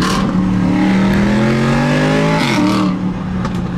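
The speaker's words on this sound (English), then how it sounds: "SLS noise as well." A Mercedes SLS Black Series engine revs loud and close, rising in pitch through a strong acceleration before a brief shift and settling, with wind noise and no talking.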